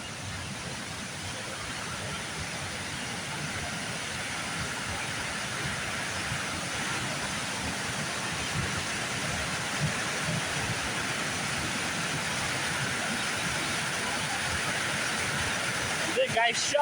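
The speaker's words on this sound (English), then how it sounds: "The waterfall. Water's still running real heavy." A waterfall running heavy at flood stage, with river ice broken up and gone, gives a constant broadband roar of rushing water, steady and unbroken throughout.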